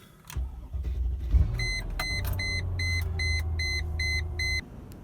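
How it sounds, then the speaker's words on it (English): A car engine turns over and settles into a low idle rumble while a dashboard chime beeps repeatedly in a steady pattern. "gotta start the cars up every few days"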